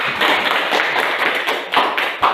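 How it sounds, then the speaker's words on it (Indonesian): A classroom of students claps in applause for the first group, a dense, steady patter of many hands sustained throughout with a couple of sharper bursts near the end. "Kita kasih aplaus dulu"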